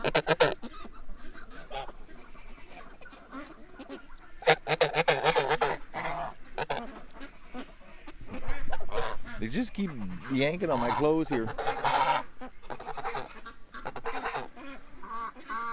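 A flock of ducks quacks and squawks in agitated bursts, alarmed by a nearby blue heron, with loud overlapping calls rising and falling while a person talks over the commotion.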